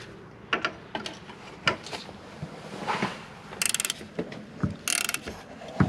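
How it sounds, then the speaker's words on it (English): A spanner ratcheting on a bolt during a coilover install on a Subaru WRX, with short clicking bursts and scattered metallic knocks, fairly quiet and close, with no talk. "you want the other spanner"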